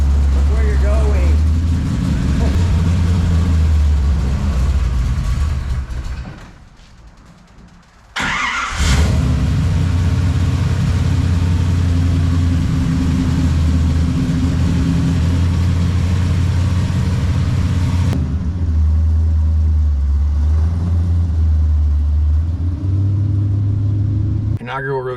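A 1974 Camaro Z28 with a TKX 5-speed runs on a road test, its loud exhaust giving a deep, steady rumble that rises and falls as it revs. A brief dip and a sharp clunk come near the start, and people talk over the engine.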